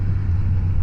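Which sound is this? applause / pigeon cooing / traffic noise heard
traffic noise heard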